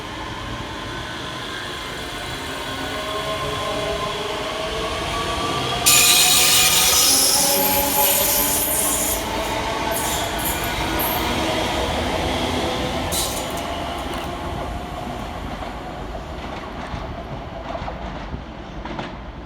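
Two coupled ScotRail class 385 electric units, 385118 and 385112, pull out of Haymarket station in Edinburgh, a rising electric motor whine with rumbling wheels, brief brake hiss and squeals, loud and close, then easing as they move away.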